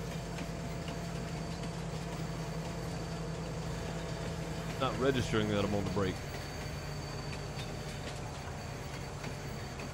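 A train rolls along in Farming Simulator 19 with a constant low mechanical rumble throughout, while someone speaks briefly over it midway.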